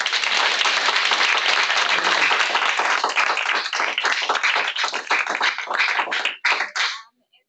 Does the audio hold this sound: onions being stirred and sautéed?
no